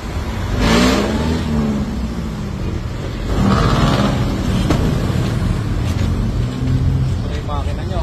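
Engine of a next-gen Ford Raptor with low mileage, a steady close rumble with a couple of mild rises in revs, under people talking.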